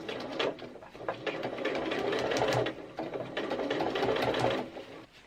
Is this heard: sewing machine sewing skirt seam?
yes